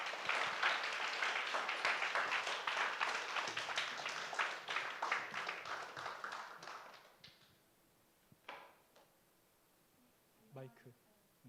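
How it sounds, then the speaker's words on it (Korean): Applause in a school lecture hall welcoming a speaker, a dense burst of many hands clapping for about seven seconds before fading, followed by a few thumps and faint speech. "우리 선배 나올 때 큰 박수로 환영하도록 하겠습니다."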